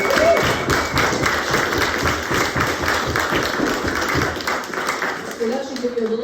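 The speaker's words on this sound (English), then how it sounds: "Round of applause for" Audience applause at a local political talk, a steady patter of many hands clapping that fills the room and then fades, with a voice starting to speak near the end.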